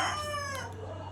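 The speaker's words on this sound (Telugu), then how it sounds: "ఫోర్ థర్టీ అవగానే కోడైతే కూసింది" A rooster crows at dawn in a village, a single faint, drawn-out call with a falling tail heard from some distance over a low steady hum.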